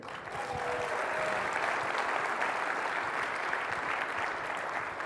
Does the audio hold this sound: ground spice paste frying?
no